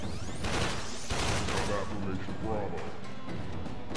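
Gunfire from the video game Warframe, dense bursts of shots and impacts crowding the mix in a busy firefight, with people talking over the action.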